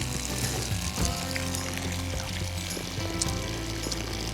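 A strong stream of water pours from a Portawell water filter at a camping trip, a steady, loud, continuous rush and splash with no break and no talking.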